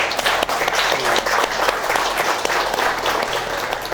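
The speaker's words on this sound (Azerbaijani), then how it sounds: "Alqışlar qara qutunu" Studio audience on a comedy show applauding as a black box is brought out, a dense, loud, continuous wash of clapping lasting the whole stretch.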